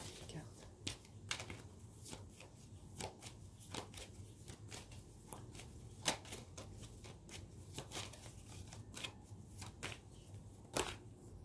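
Tarot cards are shuffled quietly up close, giving a soft irregular run of riffling snaps and taps under a faint background hum, while a voice talks.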